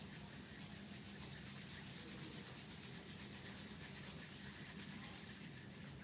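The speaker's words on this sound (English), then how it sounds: "Slowly rub your palms." Palms rubbing steadily together to warm them during a yoga and breathing session, a continuous soft brushing friction lasting the whole stretch, close and fairly quiet with no talking.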